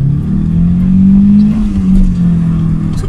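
A VW Citi Golf Mk1 engine revs loudly and steadily during a clutch slip test, a close, sustained mid-pitched drone that swells slightly and then holds.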